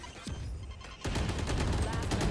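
Gunfire in the tactical shooter Valorant during a live India stream, a burst of rapid shots starting after a brief quieter stretch, then sustained loud fire with talk underneath.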